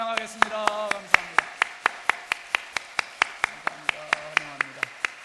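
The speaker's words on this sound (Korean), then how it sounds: "우리 박수로 환영하겠습니다" Church congregation clapping in unison to welcome a new family member, sharp evenly spaced claps in a steady rhythm, with a sung or spoken voice weaving beneath them.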